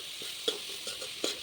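Bamboo shoot stirred into browned fried onions in a pan: a few soft spatula scrapes over a quiet, steady sizzle, close and fairly faint.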